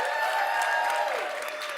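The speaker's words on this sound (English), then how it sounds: "Give her a huge round of applause." Audience applause for a farmer being honored at a Sundance Film Festival event, a dense, even roar of clapping held at steady loudness with faint sustained tones mixed in.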